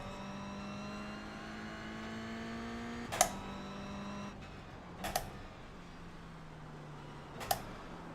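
A race car engine in the iRacing sim drones on a wet track on the first lap out of the pits, holding a steady, fairly faint pitch broken by three sharp knocks.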